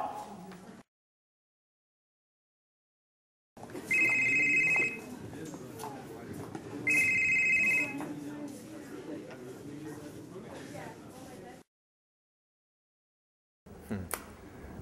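A cell phone rings in two short bursts of a bright electronic ringtone over a noisy, murmuring background, separated by gaps of silence.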